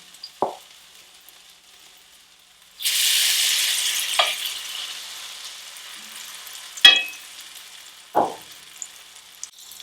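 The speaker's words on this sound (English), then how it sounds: "I don't know if you can see the fat splattering on camera." Hot fat splatters as potato pancakes fry in a pan, a broad steady sizzle setting in partway through, with a few sharp pops and spits standing out at intervals, close and moderately loud.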